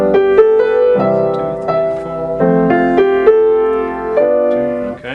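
Jazz piano, the left hand playing closed-position triads in straight eighth notes, a steady stream of close, bright chords with a repeating rhythmic pulse.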